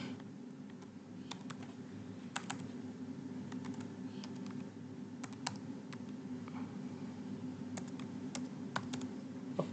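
Quiet, irregular typing on a computer keyboard, with scattered light key clicks over a soft steady background hum, as an email address and a subject are entered into a contact form.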